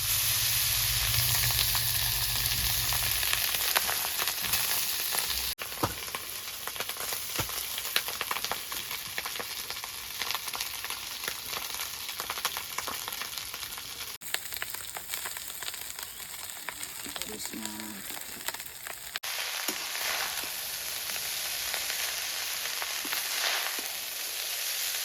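Rice goes into a hot pan for lemon rice and fries with a steady, fairly quiet sizzle, with scattered scraping and stirring sounds and little talk.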